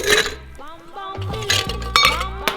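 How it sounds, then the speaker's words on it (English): Ice cubes clinking and rattling into a glass for an Old Fashioned cocktail, a quick series of bright, ringing clatters close by. "Now we're gonna add our ice."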